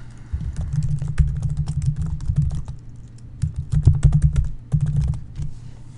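Someone types an email address and password on a computer keyboard, producing close, quick bursts of key clicks and taps with short pauses between them and no talking.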